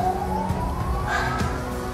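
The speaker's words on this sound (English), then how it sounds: "Sounds of suburbia, sirens in the background." Suburban emergency siren in the distance, a rising wail that holds steady under a constant background hum.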